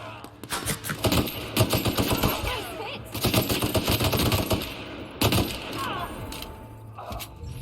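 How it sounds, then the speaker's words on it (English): Automatic assault rifle fire in The Outer Worlds, loud, close bursts of rapid shots broken by short pauses, with brief quieter gaps between volleys. "let's try out this assault rifle a little bit now"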